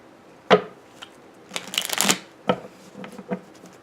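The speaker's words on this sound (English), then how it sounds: "while I'm shuffling" Tarot cards are shuffled by hand up close, giving sharp slaps and riffling bursts with a longer flurry in the middle, alone without talk.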